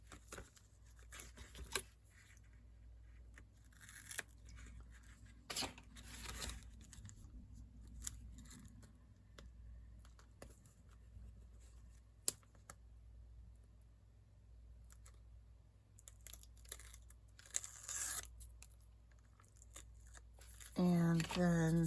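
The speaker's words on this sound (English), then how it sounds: "I think this calls for double-sided sticky tape across" Double-sided sticky tape is pulled, crinkled and torn during paper crafting of mini file folders, with scattered rustles and sharp rips spread across a quiet room and a voice speaking near the end.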